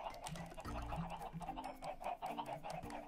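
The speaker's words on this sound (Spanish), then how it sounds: "¿Cuántas gallinas hay aquí?" Many chickens clucking in the video game Minecraft, a cluster of short overlapping clucks in an irregular rhythm, close and fairly faint, with no talk.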